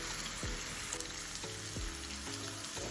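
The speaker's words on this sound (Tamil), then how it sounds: "இந்த பேம்பூ இப்போ ஆனியனோட சேர்க்க போகிறோம்." Bamboo shoots hit hot oil with sautéing onions in a pan, giving a steady, close sizzle and frying crackle with a few soft stirring knocks and no voices.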